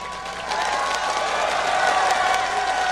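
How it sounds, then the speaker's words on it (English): Arena crowd at a League of Legends World Championship quarter-final cheers and applauds in a dense, sustained roar of clapping and voices, swelling slightly after the first half second and holding steady throughout. "Give them a cheer."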